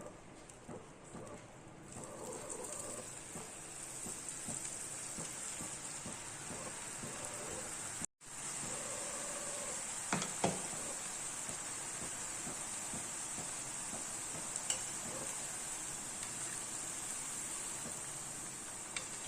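Ribbon pakoda dough made with idli batter, pressed into hot oil in a pan, gives a steady, even crackling sizzle throughout, with a brief break midway and a few faint clicks.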